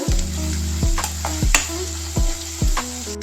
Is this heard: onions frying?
yes